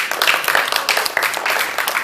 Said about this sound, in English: Austin, you're all about the smattering of applause.